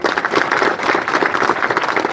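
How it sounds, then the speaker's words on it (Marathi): A large crowd at a political rally at the Vaidyanath sugar factory in Pangri claps together in a dense, even burst of applause, loud and sustained across the whole moment. "आपण सगळेजण आता एकदा वैद्यनाथ कारखान्यासाठी जोरात टाळ्या वाजवा"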